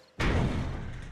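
A door in a video game closes with a single sharp slam, a loud thud that rings out and fades over about a second.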